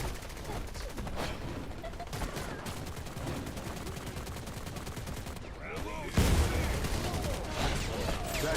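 Sustained gunfire from the video game Wild Assault, dense rapid shots crackling continuously, growing louder and closer near the end, with game voice callouts mixed in.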